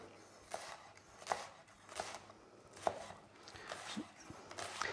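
A knife chops an onion on a chopping board in a kitchen, about seven crisp quiet taps at an uneven, steady pace, close but faint, with no talking.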